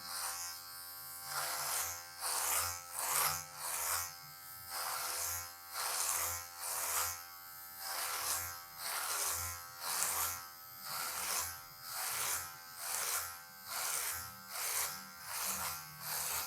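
Electric hair clippers buzz steadily while cutting the side of afro hair for a mohawk, the tone pulsing in regular strokes as the blades pass through the hair, close and continuous.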